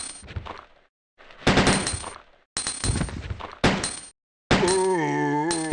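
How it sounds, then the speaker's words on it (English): Video game machine gun fires in several loud, rapid bursts separated by short silences, each burst a dense rattle with metallic ringing tails, and little or no talking over it. "Oh, a machine gun."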